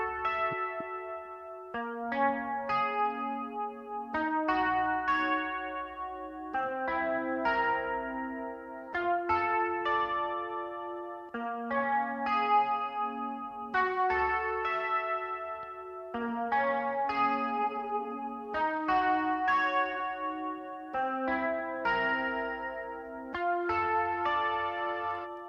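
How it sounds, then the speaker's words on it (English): Synthesized music played through an exaggerated, heavy reverb effect in the Cubasis 3 app on a tablet, with sustained washy chords and tails blending together in a steady, loud, continuous loop with no talking. "I always have to do a silly over the top sound with the reverb before I get sensible."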